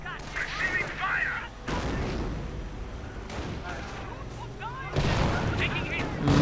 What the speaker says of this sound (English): Mine gets set off by some unfortunate riflemen.